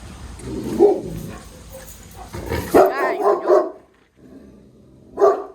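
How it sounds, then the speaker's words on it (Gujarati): Dogs bark in short bursts, a cluster of sharp barks in the middle and another near the end, fairly close and loud. "આ કૂતરા હે અહીંયા જન બે છે"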